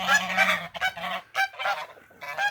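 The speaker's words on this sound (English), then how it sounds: "Look there, Goose trying to get a hold of the tank." Geese honk near a pigeon loft in a series of loud, harsh, nasal calls, with several bursts in an uneven rhythm and short gaps between them.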